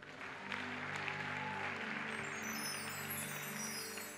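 A church congregation claps during a worship service, a sustained, fairly quiet burst of applause from a crowd, with instrument tones and faint voices ringing underneath.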